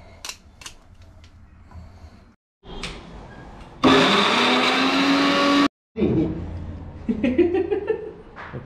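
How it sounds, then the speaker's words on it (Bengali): An electric blender whirs loudly through papaya being pureed for a beef barbecue marinade, a steady dense roar lasting about two seconds between quieter kitchen clatter and brief silences. "পেঁপে ব্লেন্ড চলতেছে"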